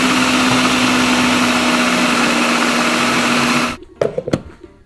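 An electric vegetable slicer whirs loudly and steadily while shredding vegetables into thin strips, a constant motor hum that stops abruptly, followed by a few clattering knocks.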